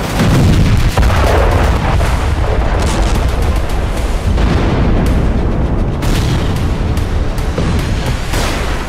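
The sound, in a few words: missile and bomb explosions from Israeli airstrikes on Lebanon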